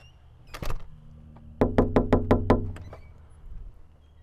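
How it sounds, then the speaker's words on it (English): A door is knocked on during a dog training session: a single thud, then a rapid run of about six loud, close knocks, with no talk over them. "I'm going to knock again and then tell her good when I come back in"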